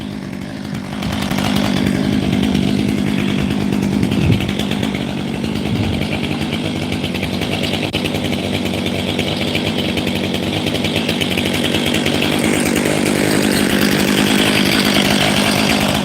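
A chainsaw idles and warms up before tree work. It gives a steady, loud, continuous engine drone close by, holding nearly constant for the whole stretch with no speech.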